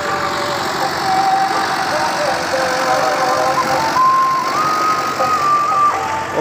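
A Fiat 480 tractor engine idling nearby with a steady diesel chug and knock, someone talking over it throughout.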